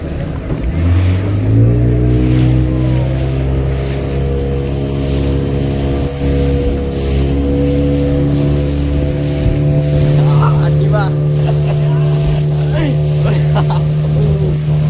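Motorboat engine running steadily on the water at Dwarka, a loud continuous drone with harmonic hum throughout, while people talk over it.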